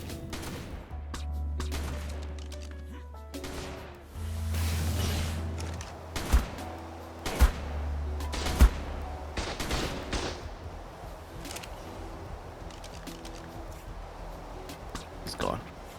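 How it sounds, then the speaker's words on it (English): Gunfire crackles in a bout of the video game Ark, with a burst of rapid shots and a few sharper single cracks near the middle, all mixed with game noise and a low drone while a player talks over it. "Got shot once with a turret."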